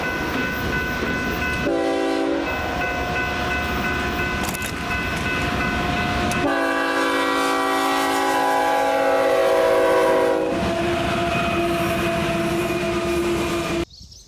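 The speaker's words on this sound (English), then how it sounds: "After this grain train went by" A heavy freight grain train rumbles past close by, its steady roar sustained throughout, with loud multi-tone horn blasts sounding in long bursts over the passing cars.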